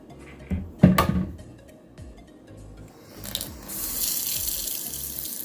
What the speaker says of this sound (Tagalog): meron kaming problema sa existing faucet namin kasi yung pressure ng tubig hindi masyadong malakas